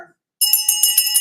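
An old school bell, the kind rung at a school attended from 1962, rings alone in a rapid, bright metallic clatter of repeated strokes with a steady sustained tone, close and fairly loud after a brief pause.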